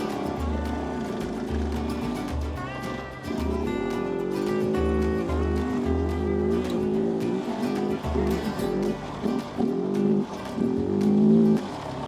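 An adventure motorcycle engine pulls in second gear in the woods, loud and close, with rhythmic revving surges and throttle changes that rise into a hard roar near the end.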